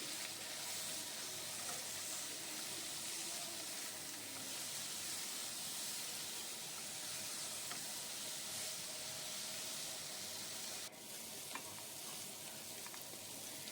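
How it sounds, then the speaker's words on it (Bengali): Steady sizzling and frying in a curry pan as sliced tomato and grated ginger are stirred in for a Bengali vegetarian taro curry, continuous hiss with a brief utensil knock near the end, no talk. "এবার এটা দিয়ে নাড়াবো আমি"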